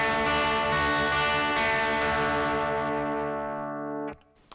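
Guitar chord with each note picked one after another under heavy fretting-hand pressure, ringing out sharp and out of tune, sustaining loudly for about four seconds before being muted, with a brief faint touch at the end.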